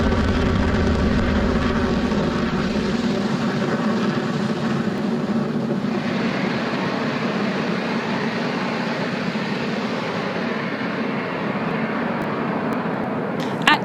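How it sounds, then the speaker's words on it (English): A Falcon 9 rocket lifting off from Space Launch Complex 40 at Cape Canaveral makes a steady, broad, rumbling roar that holds throughout and eases slightly, heard from a distance with no voices. "Falcon 9 has successfully lifted off from Space Launch Complex 40 at Cape Canaveral Space Force Station"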